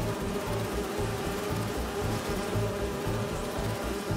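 Bees in the video game Spider-Man 2 give a steady, dense buzzing drone that continues without a break from start to finish at moderate level, with no speech.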